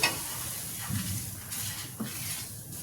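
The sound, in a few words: semolina (rava) being roasted and stirred in a pan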